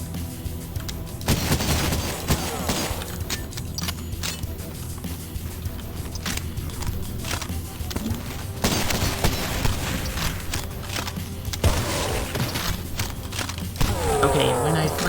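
Gunfire in the retro shooter game Cultic, with dense rapid shots and booms packed throughout, mixed with thuds and game effects, loud and close with a steady backing drone.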